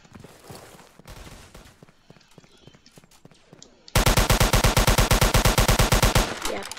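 Rapid automatic gunfire from the online shooter game Polyguns erupts in a loud, fast burst lasting a couple of seconds, after a stretch of quieter game sounds and voices.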